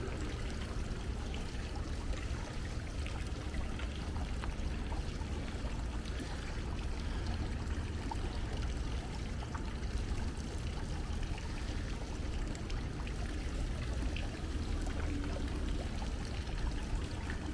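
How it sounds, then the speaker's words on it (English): Steady rushing and pouring water from a waterfall in a resort garden at Disney's French Quarter, a continuous broad splashing wash heard up close without any talk over it. "And you see we find another waterfall."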